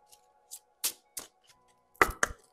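A deck of oracle cards being cut and shuffled by hand, giving a series of short, dry card riffles and taps, sparse at first and then two sharper snaps close up, with a faint steady hum underneath.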